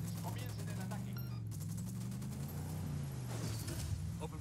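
Rapid gunfire bursts crackle in Ghost Recon Wildlands over a low droning engine hum and steady background noise, with a voice speaking faintly underneath.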